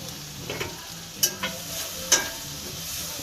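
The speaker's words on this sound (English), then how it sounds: "I'm going to turn the heat down just a little bit so we can just kind of simmer it in there" Cornstarch-coated beef sizzles and fries in a pan, with a steady hiss broken by a few sharp scraping clicks as it is stirred close by.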